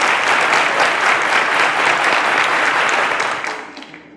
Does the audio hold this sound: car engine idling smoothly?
no